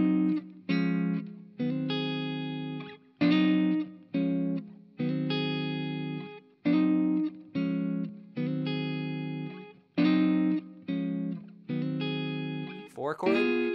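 Guitar strums the first eight bars of a song as chopped, evenly spaced chord stabs with short gaps between them, moderately quiet and close, ending in a quick slide or string scrape.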